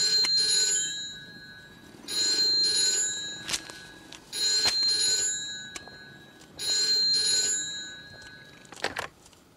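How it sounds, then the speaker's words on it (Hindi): A telephone ringing indoors, four evenly spaced bright electronic trills about two seconds apart, close and clear, with small background knocks and a sharp click at the end. "वैद्य ही रघु का फोन है, आओ।"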